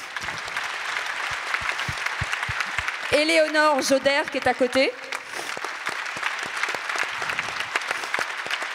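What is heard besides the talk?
audience applause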